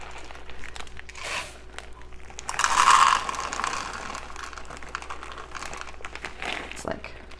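Mini chocolate chips, about three quarters of a bag, pour from a crinkling bag into chocolate bundt cake batter, a rattling rush swelling in the middle, with background clatter and a voice talking nearby.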